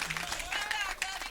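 A bowling alley crowd cheers and claps briefly after a strike, a short burst of noisy applause with voices mixed in.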